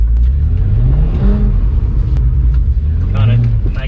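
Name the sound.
BMW 135i engine revving while drifting on skid pan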